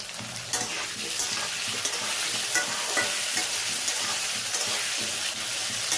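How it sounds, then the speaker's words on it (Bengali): Potatoes sizzle in hot oil with salt, a dense close crackle with intermittent stirring scrapes over about six seconds and no talking. "আলু দিয়ে দিয়েছি, একটু নুন দিয়ে দিলাম ভাজতে।"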